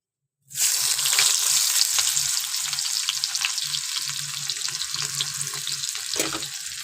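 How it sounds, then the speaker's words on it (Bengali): Chopped onion goes into hot oil left over from frying fish in a wok. After a brief silence a loud sizzle bursts in and then settles into a steady, close crackle, with faint stirring scrapes underneath. "সেই মাছ ভাজা তেলের মধ্যে দিয়ে দেব পেঁয়াজ কুচি"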